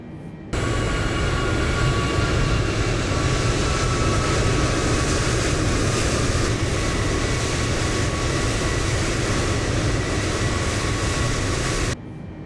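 A Boeing 747 roaring down the runway on its takeoff roll in Microsoft Flight Simulator, a dense, steady engine rumble with a thin high whine that starts abruptly, holds constant, then cuts off.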